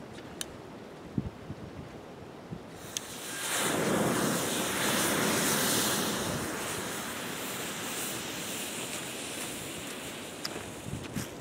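About a tablespoon of homemade rocket fuel mixture ignites outdoors with a sudden loud roaring hiss that holds for a few seconds, then tapers into a softer, lingering rush against faint wind noise.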